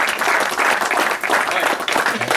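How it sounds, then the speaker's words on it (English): A round of applause for the ladies who made the sandwiches at a live steam model engineers' event, dense steady clapping from a gathered crowd filling the room for a couple of seconds. "You get a round of applause"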